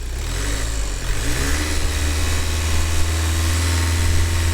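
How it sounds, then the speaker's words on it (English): An Audi TDI diesel engine with a turbo underboost fault is revved steadily, a loud, close, continuous drone with a deep low rumble and slight rises in pitch. No one talks over it. "Rodney, he's just going to rev the engine"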